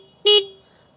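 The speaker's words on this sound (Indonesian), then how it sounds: "Klakson di sini, kalau kalian pengen denger suara klaksonnya," A CFMoto Papio XO-1 motorcycle horn gives a single short, loud, bright beep close by, then falls away into quiet.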